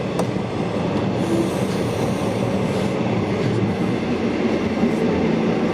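V/Line train with N-class cars and an SSH26 H-set car running near Geelong, a continuous loud rumble of wheels on rails with faint squeals and clicks, heard from on board without speech.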